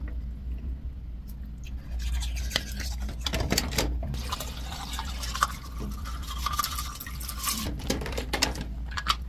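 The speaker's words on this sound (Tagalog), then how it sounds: "Magtutoothbrush na rin ako." Teeth being brushed with a toothbrush and toothpaste during a nighttime routine: close, uneven scrubbing and wet bristle strokes over a steady low room hum, with no talking.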